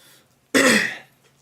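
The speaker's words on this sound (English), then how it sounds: "I feel like I've been having to clear my throat a lot more lately." A single short, close throat clearing, a raspy rough burst lasting about half a second, comes out of near silence and fades quickly.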